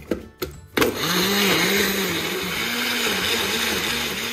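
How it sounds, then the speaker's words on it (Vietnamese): Kitchen blender whirring as it purees scallion, ginger, garlic, fish sauce and water for a kimchi sauce, a few short pulses followed by a steady loud grinding drone with a wavering motor pitch. "Thì bây giờ mình sẽ đem đi xay cái phần này nha các bạn"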